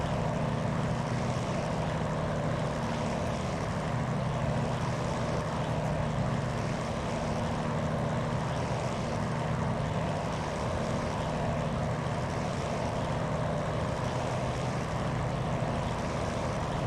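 A P-40F Warhawk's piston engine roars at takeoff power in a flight simulator game, a loud, steady propeller drone that holds constant and unbroken throughout.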